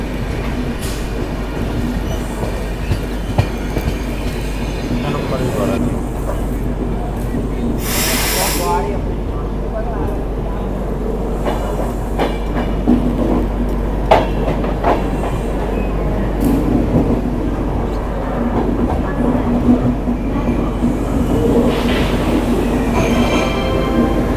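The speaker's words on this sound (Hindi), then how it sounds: "आपको दिखाते हैं जबलपुर रेलवे स्टेशन पर अपनी ट्रेन का अराइवल।" The Mahakaushal Express passenger train rolls into Jabalpur railway station with a continuous rumble, clanking wheels and occasional metallic squeals, and voices murmur in the background.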